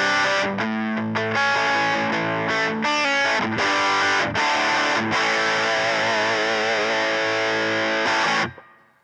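Electric guitar through a JHS Violet distortion pedal at moderate gain, playing chords and riffs with a crunchy breakup, loud and close, with a sustained note ringing before it cuts off.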